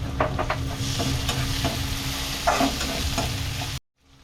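Chopped onion with ginger garlic paste sautéing in a hot pan gives a steady close sizzle and frying hiss, with a few scraping stirs on top, before cutting off abruptly near the end.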